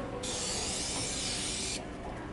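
A spray paint can hisses in one long, loud continuous burst while graffiti is sprayed, cutting off abruptly near the end.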